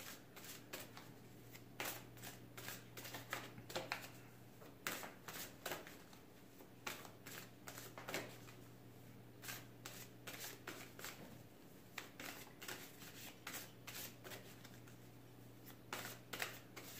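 Oracle cards are shuffled steadily and close up, with a continuous run of rapid riffling and flicking bursts over a low background hum and no talking.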